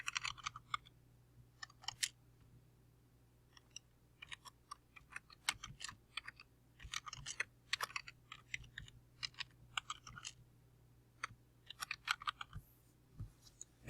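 A name is typed on a keyboard in quiet bursts of light, rapid key clicks with brief gaps, close but soft over a low steady hum.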